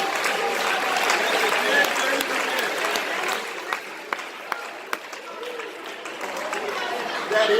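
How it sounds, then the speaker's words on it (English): A church congregation at a worship service claps in a sustained burst of applause, with chatter and voices mixed underneath. "Can't get nobody to give a hand clap in here for that."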